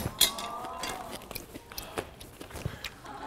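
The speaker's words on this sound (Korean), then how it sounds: "콩나물의 아삭함도 씹히니까 이게 씹는 맛이 너무 재밌다" Close-up crunchy chewing of a crispy bean sprout pancake, with irregular crisp bites and soft mouth sounds, quiet and near.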